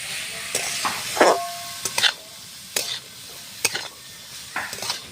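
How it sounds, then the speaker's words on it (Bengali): Salted mixed vegetables for vegetable chops frying in a pan, with irregular scraping stirs and clinks of a spatula over a soft, steady sizzle, close by and without talk. "এতে করে সবজিটা তাড়াতাড়ি ভাজাও হবে"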